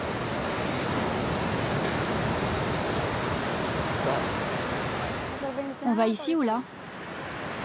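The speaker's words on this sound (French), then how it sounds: "Mais les vagues sont vraiment petites." Small ocean waves wash onto a Bali beach in a steady, hissing surf that fills the scene, with a short burst of speech from a nearby person toward the end.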